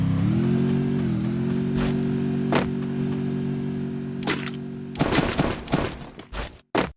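A motorbike engine in the Free Fire video game hums steadily and close, its pitch stepping up as it revs, then gives way to sharp cracking bursts and clatter near the end.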